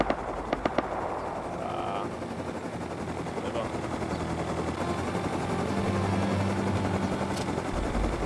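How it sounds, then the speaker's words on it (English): A helicopter in the survival game Rust drones with a steady rotor hum, mid-loud, joined by a few sharp clicks and distant bursts, while players talk over voice chat. "Can't hear you over this heli."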